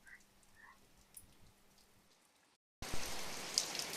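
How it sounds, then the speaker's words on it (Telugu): Soft patter with faint croaking gives way, after a brief silence, to a loud, dense roar of heavy rain pouring down outside. "బయట అయితే వర్షం పడుతుంది"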